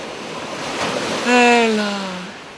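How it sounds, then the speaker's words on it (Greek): Sea waves played through a phone speaker, a soft broadband wash rising and falling, overlaid by a loud tonal voice-like sound partway through. "Τα ακούτε εσείς τα κύματα."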